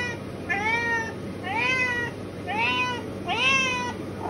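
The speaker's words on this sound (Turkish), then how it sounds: "Full böyle miyavlıyor arkadaşlar." A domestic cat meows four times in a steady, evenly spaced series, each call a drawn-out, rising-and-falling wail, close and clear over a low room hum.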